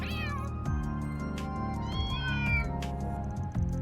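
A gathering of cats in the video game Trails Through Daybreak meows loudly, several drawn-out overlapping calls and cries following one another close up, with no talking.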